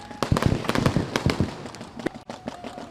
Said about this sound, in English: The fireworks light up the sky.